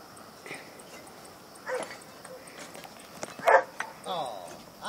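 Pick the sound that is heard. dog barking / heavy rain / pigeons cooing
dog barking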